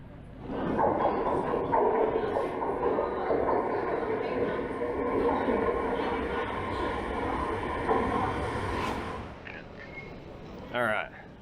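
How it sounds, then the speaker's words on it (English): London Underground train running deep below central London, a loud steady rumble and roar of the carriage in motion that eases off near the end, with voices talking over it. "Let's just see how deep underground this train is in central London."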